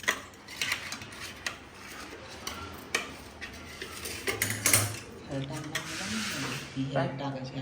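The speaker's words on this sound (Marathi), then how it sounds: "आता मी ह्याला पण दूध टाकून मिक्स करून घेणार आहे" Biscuit cream being mixed with milk for a chocolate biscuit cake, a spoon clinking and scraping against a bowl in irregular taps and scrapes, with a person talking over the mixing.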